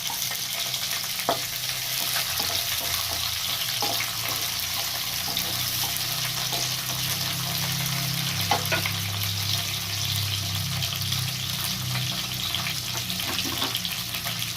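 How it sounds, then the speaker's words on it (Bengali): Cauliflower, carrot, peas and capsicum fry in a pan with a steady, dense sizzle that holds evenly throughout, broken by occasional faint clinks and light stirring knocks, with no voices. "ফুলকপি আর গাজরটা ফ্রাই হতে হতে আমি দিয়ে দিলাম মটরশুঁটিগুলো আর ক্যাপসিকাম।"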